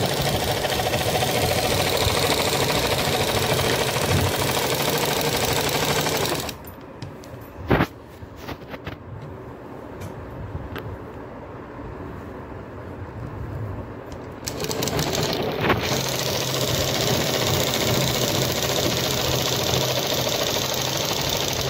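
Sewing machine stitching the seat panel of a salwar, a steady loud mechanical whir that stops partway, leaving a quieter stretch with a few small clicks, then starts running again.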